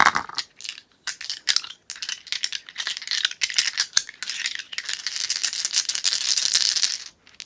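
Six plastic dice are shaken and rolled, giving a busy clattering rattle of many quick clicks and taps, close and fairly loud, coming in irregular bursts with a denser rattle near the end.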